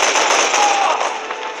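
Sustained machine gun fire in the WWII shooter D-Day, a dense, loud, continuous rattle of rapid shots with battle noise, filling the whole moment without a break.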